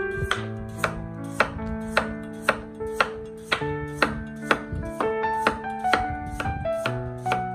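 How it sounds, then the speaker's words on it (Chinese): A knife chops a scraped, peeled carrot into thin slices on a cutting board, about fifteen sharp, evenly spaced knocks close up over a faint ringing background, with no speech. "把胡萝卜也给它切成薄片"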